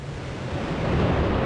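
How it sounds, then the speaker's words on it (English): Space Shuttle Discovery's main engines start at launch on mission STS-133 in 2011, a steady, broad low roar that slowly swells, heard from a distance with no talk over it. "Go for main engine start. We have main engine start."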